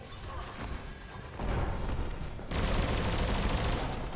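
Player gunfire in Biomutant against an armored enemy comes as dense, rapid bursts of shots that grow louder and fuller partway through, with no talk over them.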